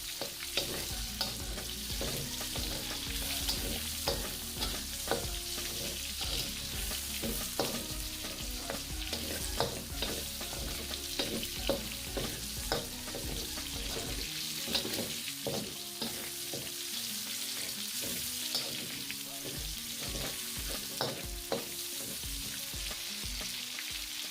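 Onion stir-fried in a pan for a sweetened pork-with-tomatoes dish, a steady close sizzle with frequent scraping strokes from a utensil stirring throughout, continuous and unbroken, no voices.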